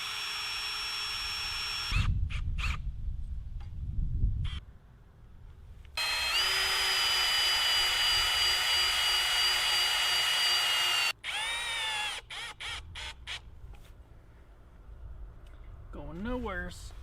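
Power drill driving self-tapping screws into a homemade backyard flagpole, several short whirring bursts with pauses and motor pitch shifts, close and loud, with brief talk and handling noise between runs.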